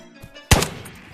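A single sharp, loud gunshot lands a headshot in the VR shooter Ghosts of Tabor, a hard crack after a quiet moment with a brief ringing decay.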